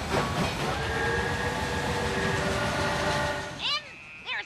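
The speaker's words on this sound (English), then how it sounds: "If a train went by, made a lot of noise, or if it blew its whistle" A train rumbles steadily past a drive-in movie theater, its drawn-out whistle tones held over the clatter, before the noise drops away and a voice speaks briefly near the end.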